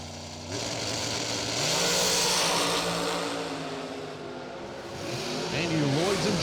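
Racetech Chassis dragsters, a 2011 and an 2008 car, roar down a drag strip; their engine drone climbs in pitch, eases, then surges again, loud and continuous with a crowd-like wash behind.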